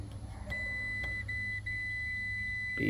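Multimeter continuity beep while testing fuses on an air conditioning unit: one long steady electronic tone that runs through most of the stretch, with a faint hum beneath.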